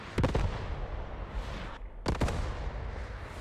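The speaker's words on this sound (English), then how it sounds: "And that's JTF artillery as well. JTF putting down some artillery bombardment themselves." Artillery bombardment in the World War II shooter Post Scriptum, with two sharp clusters of blasts at the start and again near the two-second mark over a steady, rumbling battlefield background.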